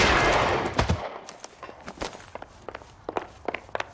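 Gunfire in the video game L.A. Noire: a run of sharp, separate shots spread irregularly across the moment, some in quick pairs, coming after a loud opening burst of noise.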